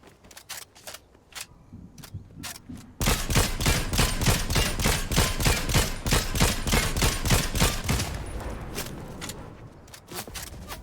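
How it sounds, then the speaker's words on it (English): Video game gunfire: a few scattered shots, then a sustained, loud stretch of rapid automatic fire that tapers off, with sporadic shots returning at the end. "This person from a mile away is shooting at me"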